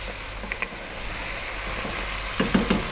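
Tomatoes sizzling in a pan while cooking down for a lamb kabsa, a steady hiss of frying with a couple of light clinks early on and a short burst of stirring scrapes near the end.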